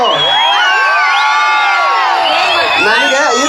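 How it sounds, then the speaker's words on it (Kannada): A crowd of children cheers and shrieks in loud, high, overlapping whoops, with clapping mixed into the din. "ಈಗ ಮಕ್ಕಳು ಚಪ್ಪಾಳೆ ಎಲ್ಲ ಸೌಂಡೇ ಕೊಡ್ತಾರೆ ನೋಡು ನಮ್ಮ ಹುಡುಗರು"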